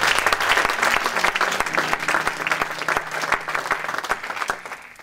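A church congregation applauds during worship, a dense, loud round of clapping that carries on for several seconds and gradually tapers off, with little talking.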